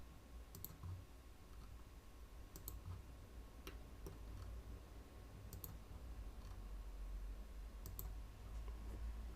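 Computer keyboard keys typed and a mouse clicked while drawing walls, floors and slabs in CAD, with sparse light clicks and taps at irregular intervals over a low steady hum.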